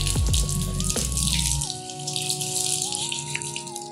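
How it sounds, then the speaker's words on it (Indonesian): Running water pours continuously over an air conditioner's air filter being rinsed, a steady splashing wash, with a tonal hum underneath, close and fairly loud. "Anda membersihkan filter udara ini dengan menggunakan air mengalir."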